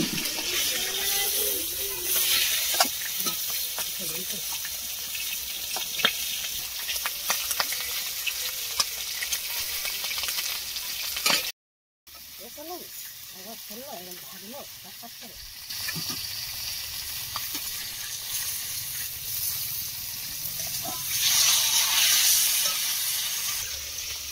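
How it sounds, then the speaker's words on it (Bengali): Large chicken leg pieces fry in a pot for biryani, giving a continuous close sizzle with intermittent stirring scrapes and watery bubbling, broken by a brief drop-out midway; a voice speaks over part of it. "প্রথমে মাংসগুলোকে ভেজে নেওয়া হচ্ছে বিরিয়ানির জন্যে"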